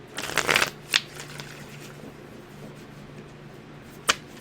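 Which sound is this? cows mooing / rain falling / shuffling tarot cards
shuffling tarot cards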